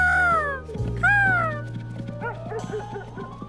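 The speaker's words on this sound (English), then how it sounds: "A dog barking. Woof, woof." A dog barks and yips several times in quick succession, close by, with whining tones, over a steady low rumble.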